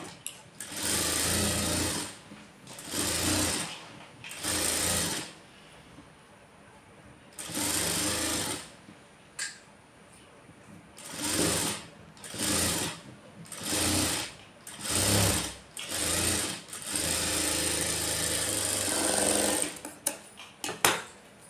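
Sewing machine stitching a double seam on a blouse, running in repeated bursts of steady whirring separated by short pauses, close and clear with no talk.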